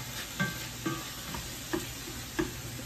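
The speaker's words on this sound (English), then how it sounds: "Our hamburger's still cooking over here." Hamburger meat sizzles in a pan with a soft, steady frying hiss, broken by four brief scraping stirs at regular intervals, close and fairly quiet with no talking.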